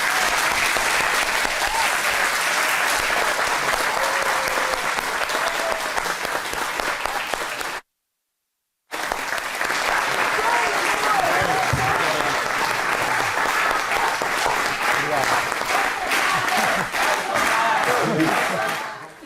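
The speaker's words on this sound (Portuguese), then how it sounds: "eu peço com muito carinho e com muita tranquilidade para que a gente possa aplaudi-lo" Sustained audience applause fills a seminar hall in Lisbon, a dense continuous clapping that runs loud for several seconds, breaks off briefly, then resumes just as strong with some cheering mixed in.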